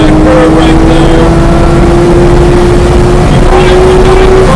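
A Porsche GT3 engine pulls hard on throttle at Buttonwillow Raceway, a loud, steady in-car drone with a slowly rising pitch, heard close with heavy road and wind noise.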